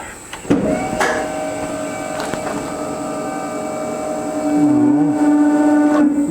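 Sawmill carriage squeaking on its rails while cutting an unusual log, a sustained high metallic squeal with shifting tones that runs through the whole stretch, close and loud, with no talking.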